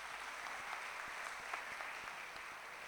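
Steady applause from an audience at a Jain religious welcome ceremony, a dense wash of clapping at moderate level with a few sharper claps standing out, no voices.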